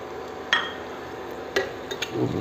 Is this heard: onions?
yes